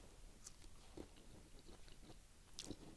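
Boiled carrot chewed near the mic, with a few soft, moist crunches scattered among quiet, faint mouth sounds, no voice.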